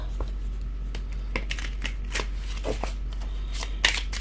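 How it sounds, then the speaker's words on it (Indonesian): Tarot cards are shuffled by hand in a series of crisp riffling bursts and soft slaps, irregularly spaced and close up, over a low steady hum. "kita shuffling"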